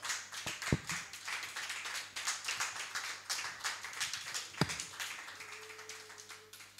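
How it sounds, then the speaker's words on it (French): A church congregation claps in scattered, uneven bursts during a French-language service, with a few sharp louder claps standing out against a quiet room, fairly distant and without speech. "Tu as raison d'acclamer encore plus fort que ça."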